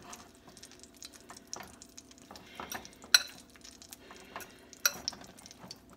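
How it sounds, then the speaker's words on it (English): Seasonings being stirred into a chicken casserole mixture, with a spoon scraping and clinking against a dish in irregular close strokes, sharper clinks standing out over a quiet background. "And just stir that up."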